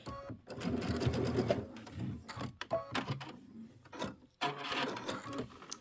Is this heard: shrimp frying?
no